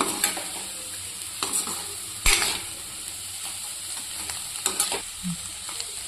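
Carrot and peanut fry cooks in a pan with steady sizzling, broken by a sharp metallic clank from a spatula against the pan and a few scraping stirs, with no one talking.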